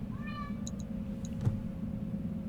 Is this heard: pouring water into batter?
no